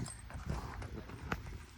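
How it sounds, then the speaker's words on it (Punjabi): A mare of a Majhu bloodline steps slowly, her hooves giving a few soft, scattered clip-clops against faint background noise. "ਕੰਨ ਕੋਨਾਂ ਦੀ ਬਹੁਤ ਸੋਹਣੀ ਘੋੜੀ"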